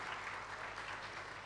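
A dense wash of audience applause at the PC Gaming Show, many hands clapping at once in a steady, even roar that fills the whole short moment.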